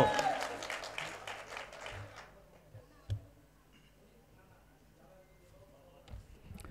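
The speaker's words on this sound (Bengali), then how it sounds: "জোরে হাততালি হোক ইলিয়াস স্যারের জন্য" Audience applause for a speaker at a public speaking event, a dense burst of clapping for the first two seconds that quickly fades out, followed by quiet room noise with a few isolated knocks.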